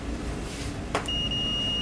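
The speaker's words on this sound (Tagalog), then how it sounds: "Check na natin sa buzzer mode." A multimeter set to buzzer mode for continuity and short testing on a split-type aircon outdoor control board gives one steady, clear high-pitched tone that starts about a second in and holds to the end over a low background hum.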